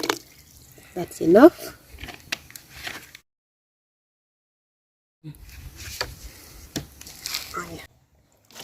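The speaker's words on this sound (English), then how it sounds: "So I'll go ahead and pour in." In a rural Ugandan village kitchen, an ash-based combo mixture is poured into a cooking pot, making soft splashing and dripping sounds. A voice talks over it, then there is a silent pause before quiet liquid sounds and talk resume.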